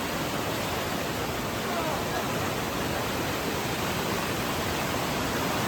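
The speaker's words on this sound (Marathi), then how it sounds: "या बघा या कोपट्यातनं पाणी जातं." Floodwater from monsoon rain rushes through a corner beside a village bridge in Konkan, a loud, unbroken roaring wash that fills the whole stretch without letup.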